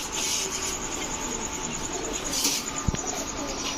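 Giribaz pigeons, a black-faced pair of racer and high-flyer birds, coo softly and continuously, low and close, under a faint hiss of background noise with one brief knock.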